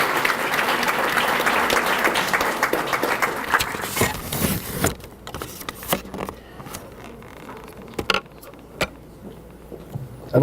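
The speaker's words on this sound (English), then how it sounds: "Let's give them both a round of applause, please." Banquet audience applauding steadily for several seconds, loud and dense at first, then thinning into scattered individual claps and a few sharp knocks before trailing off.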